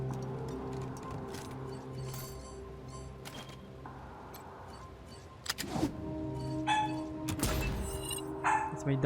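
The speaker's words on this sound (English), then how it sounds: "It's my dog barking." A pet dog barks several times indoors, the sharp yaps breaking over a steady background of game sound and room noise, loud and fairly close.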